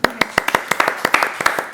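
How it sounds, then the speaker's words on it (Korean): Sharp, close hand claps from a small audience at a live film Q&A event, roughly a dozen quick uneven claps overlapping briefly. "박수까지 쳐주셨어요."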